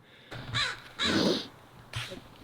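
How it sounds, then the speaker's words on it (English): A single crow caws three times close by, loud harsh calls with short pauses between them, no voices. "There's a crow. It's heckling me."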